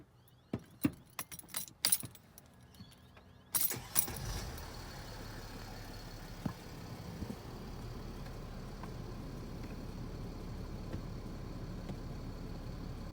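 Keys jingle in short bursts before a Mercedes ML-Class W164 engine turns over and catches, then settles into a low, steady idle heard close by without talk.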